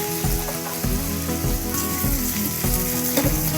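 Pieces of chanduva (pomfret) fish fry in a pan with a loud, constant sizzle, broken by periodic scraping and shuffling as the pieces are turned, close up and with no talking.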